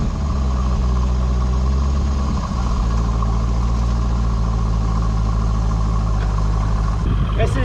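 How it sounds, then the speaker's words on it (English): A stock-exhaust LS1 V8 in a 2002 Chevrolet Corvette C5 idles with a deep, steady rumble close by. The engine drone holds evenly throughout while someone talks over it. "This is completely stock exhaust. This LS1 sounds really, really good."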